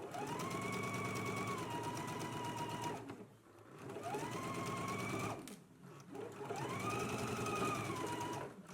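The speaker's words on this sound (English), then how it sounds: "let's go ahead and stitch using a 5/8 of an inch seam allowance" A home sewing machine stitches a seam on a beginner top in three sustained runs, its motor whirring and the needle chattering rapidly, with short pauses between bursts and no talking.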